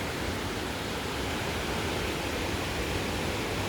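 Rushing water at the head of the Fırtına stream near Ayder plateau in Rize, a dense, steady roar of broadband noise with no pauses, close and loud, no voices.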